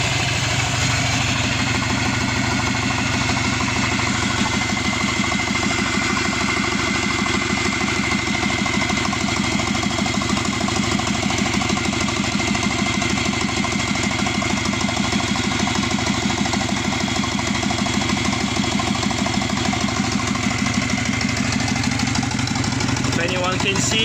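A turbocharged Subaru Forester SG9 with an EJ255 engine idles steadily, a continuous close rumble with a fine rhythmic pulse and a faint whine that holds throughout, and someone talks over it.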